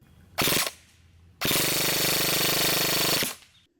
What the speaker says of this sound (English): they shoot them fully automatic with, as you guys will see in a second here, incredible rates of fire